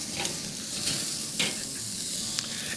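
Burgers sizzle steadily on a kettle grill after being flipped, a close, continuous crackling hiss with a few sharper pops, heard on its own without talk.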